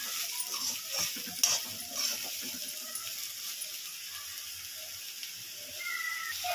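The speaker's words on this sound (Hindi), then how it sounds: "इसमें डाल देते हैं नेनुआ, इसे मिक्स कर लेते हैं अच्छे से, डाल के 1 मिनट के लिए अच्छे से इसे भून लेंगे" Chopped ridge gourd fries in a pan as it is stirred, a soft continuous sizzle with scattered scraping and clinking of the spoon, fairly quiet and without talk.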